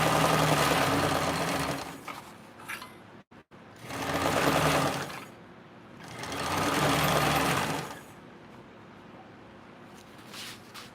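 A sewing machine stitches a quarter-inch seam in three bursts of fast, steady mechanical whirring, each a couple of seconds long and separated by short pauses, close by with no talk.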